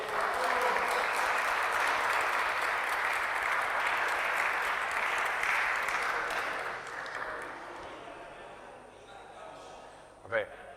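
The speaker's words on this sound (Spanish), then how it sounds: "Va a dar un aplauso" An audience claps for a priest's birthday at a clergy gathering, loud sustained applause that fades out over the last few seconds and ends with a short sharp sound.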